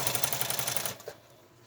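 A sewing machine stitches quilt seams in a quick, even rattling run that stops abruptly just under a second in, leaving quiet room tone with a small bump afterward.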